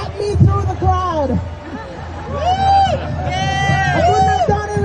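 A New York City protest crowd roars around the listener, with loud overlapping shouts, whoops and chanted calls close by, a continuous babble of many voices.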